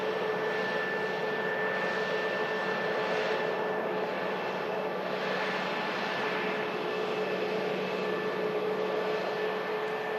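An airliner with high-bypass jet engines at Manchester Airport makes a steady, broad roar that holds at an even loudness throughout, with a faint tonal whine riding over the wash of noise.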